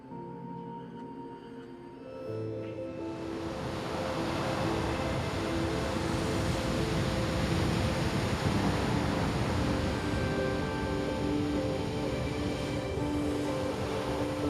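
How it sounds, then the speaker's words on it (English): Ocean waves and surf, a broad rushing wash of water that builds after a quieter opening and then holds steady and loud, with no voices. "The ocean, floating in the water."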